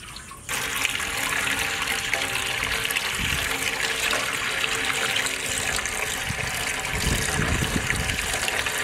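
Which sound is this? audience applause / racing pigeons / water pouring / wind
water pouring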